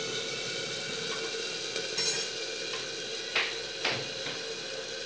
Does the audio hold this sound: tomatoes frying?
yes